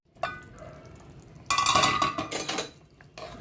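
A metal lid goes onto a pot of boiling potatoes. There is a light clink, then a louder ringing clatter as the lid settles and rattles briefly before going quiet.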